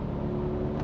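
Audi RS 6 Avant C5 with Torsen all-wheel drive, engine sound while driving through a curve: a steady, loud, close engine drone with a constant tone, no break over the short stretch.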